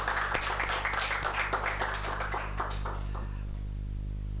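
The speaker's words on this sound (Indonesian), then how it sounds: "Beri tepuk tangan dong untuk beliau." Applause welcoming a podcast guest, scattered claps from a small audience that thin out and fade over a few seconds, with a constant low hum beneath.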